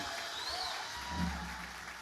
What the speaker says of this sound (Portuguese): uma salva de palmas para o nosso pastor